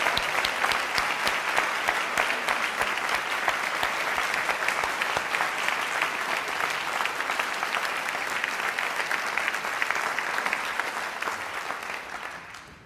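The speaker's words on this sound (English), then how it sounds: "can I ask all of you to be upstanding to applaud them" Graduation ceremony audience standing to applaud families, dense sustained clapping from a large crowd filling the hall evenly, fading out near the end.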